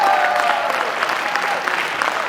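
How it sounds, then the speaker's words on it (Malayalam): An audience at a community meeting in Dallas applauds Ajay Mathew Vazhakkal with a steady burst of clapping, moderately loud and close, with a faint voice briefly audible beneath it. "എല്ലാവരും അജയ് മാത്യു വാഴക്കലിന് ഒരു നല്ലൊരു കയ്യടി കൊടുക്കും"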